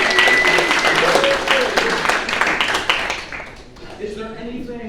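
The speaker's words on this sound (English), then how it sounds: "Give him a round of applause for education." An audience applauds a teacher at an animal rescue magic show, a loud burst of clapping that gradually fades, with a voice speaking as it dies away.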